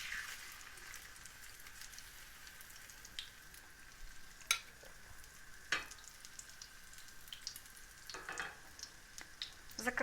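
Garlic-flavoured pork chops sizzle and crackle in hot oil in a pan over medium heat, a soft continuous frying hiss broken by sharp pops and spits, fairly quiet and close with no voices.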